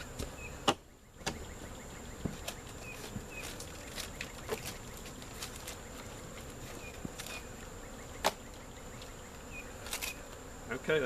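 Honey bees buzz steadily around an open hive during colony work, a dense continuous drone close by with occasional knocks and clicks of handled equipment.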